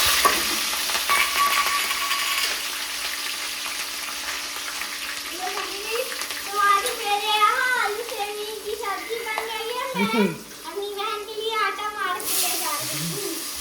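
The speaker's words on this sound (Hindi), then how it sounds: "तो इसमें डालेंगे हींग, जीरा और हरी मिर्च।" Asafoetida, cumin and green chilies sizzle in hot oil for potato and bean curry, a steady close frying hiss that continues under a child's and an adult's voices in a home kitchen.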